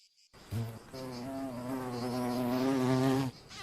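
Mud wasp buzzing as it flies back to its nest, a steady close harmonic drone lasting about three seconds before cutting off abruptly, heard alone.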